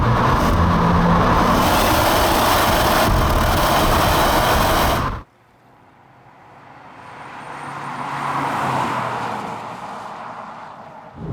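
Engine of a 2017 VW Polo Blue GT revving hard under acceleration, a loud sustained roar that cuts off abruptly midway, then a quieter engine note swells and fades as the car pulls again.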